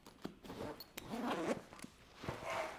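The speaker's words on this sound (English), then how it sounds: "it closes with a fidlock double zip" Fidlock double zipper on a Mystery Ranch 3-Way Briefcase being pulled in several quick rasping strokes with clicks and pauses between them, close and fairly quiet.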